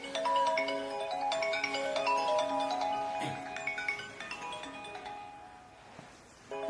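A phone ringtone plays a bright repeating melody of stacked tones, loud and steady, as an incoming call rings on and on without any talking.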